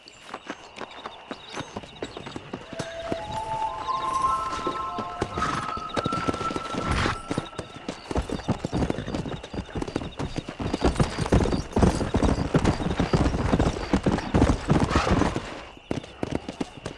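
Horses gallop in the Western video game Red Dead Redemption, a dense, steady clip-clop of hooves with a brief whinny early on, over rising game music and ambience.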